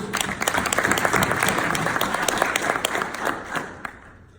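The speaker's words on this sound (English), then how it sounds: "Give yourselves a round of applause." A Rotary Club audience breaks into loud, sustained applause, dense clapping from many hands that holds steady and then tapers off near the end.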